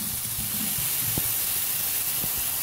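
Chopped tomato tipped into a hot pan for homemade tacos, giving a steady, close hiss and sizzle with a few soft knocks beneath it and no talking.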